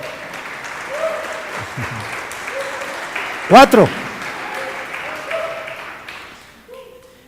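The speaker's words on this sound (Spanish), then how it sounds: "¿Cuántos le dan un aplauso a Dios por este privilegio?" Congregation applauding during a church teaching, a moderate wash of clapping broken by a brief sharp whistle-like cry in the middle, with a voice speaking briefly near the end.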